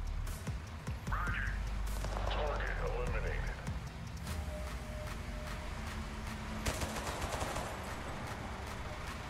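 Scattered gunshots crack in a Total Conflict: Resistance battle, with single shots and short bursts at varying distances beneath a steady hum of ambient combat noise; a voice briefly calls out.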